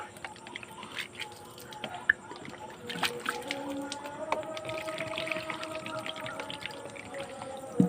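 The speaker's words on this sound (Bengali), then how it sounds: "দেখতেই পাচ্ছি এবার আমরা জল দিয়ে গাছটা পুরোটা ভর্তি করে দিচ্ছি আর গাছটাকে একটু চানও করে দিচ্ছি ভালোভাবে" Water is poured onto a newly planted kamini shrub on a rooftop, giving faint, close trickling and dripping with a few sharper splashes over low background noise.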